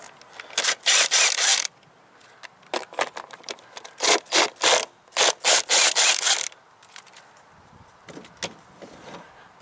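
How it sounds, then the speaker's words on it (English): On a 2003 Toyota Corolla, the plastic engine beauty cover is pried off by hand, with repeated loud creaking, scraping plastic rubs in bursts of varying length, close up, followed by quieter handling noises and no talk. "I'm going to start off by removing the beauty cover."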